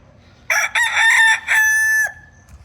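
A single rooster crow from a four-month-old McLean x Miner Blue stag rings out close and loud, a long rising-and-held call lasting about a second and a half, ending abruptly.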